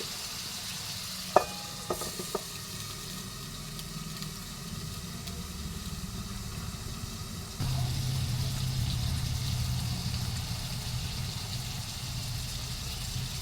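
Food cooks in a covered frying pan, giving a steady close sizzle and low rumble that grows louder partway through, after a few light clinks of the lid, with no voices.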